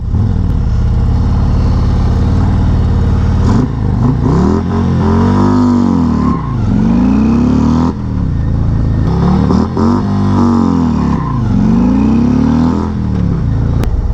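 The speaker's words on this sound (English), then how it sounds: "bring my RPMs up about to red line, and we're just going to do some real aggressive starts and letting the clutch out pretty quick here" A Harley motorcycle engine revs hard toward redline again and again, each sweep rising and falling in repeated loud bursts as the clutch is let out quickly for aggressive starts, close up with no talking.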